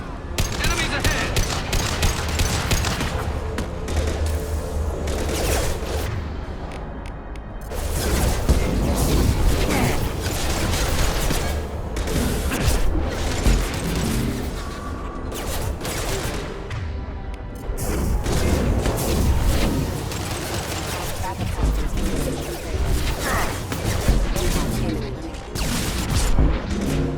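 Rifle fire rips through a combat scene in the video game Mass Effect 2: dense bursts of shots, booms and crashing impacts arrive in loud, closely packed volleys, with voices talking amid the shooting.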